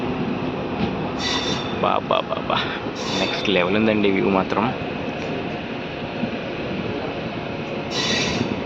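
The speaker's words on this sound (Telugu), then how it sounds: "కృష్ణమ్మ కోన రైల్వే స్టేషన్ నుంచి బయలుదేరింది మన ట్రైన్" A Nandyal-Kurnool DEMU train runs with a steady, loud rail rumble and wheel noise throughout, while someone talks over it.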